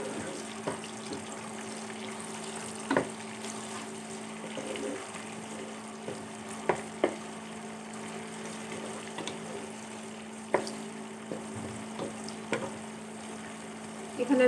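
Chopped onions frying in a pan for beef curry, a quiet steady sizzle with occasional clicks and clinks of a spatula; a low hum runs underneath.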